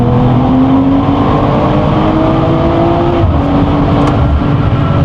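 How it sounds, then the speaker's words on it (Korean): A BMW M440i engine holds a loud, steady drone close by, with a brief rougher burst near the end that could be exhaust pops on a downshift. "다운칠 때 소리도 엉 하는 것도 팝콘도 터지고"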